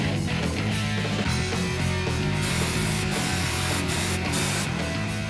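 A fine finish paint sprayer runs outdoors at close range, making a loud, continuous hiss with a mechanical whirr beneath it that holds steady with no talk.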